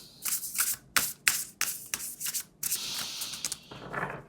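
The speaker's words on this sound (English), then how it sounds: "I go ahead, I shuffle until it feels right?" A tarot card deck being shuffled by hand in a quiet room, a string of crisp riffling and rubbing bursts with short pauses between them, fairly close and moderately loud, with no talking.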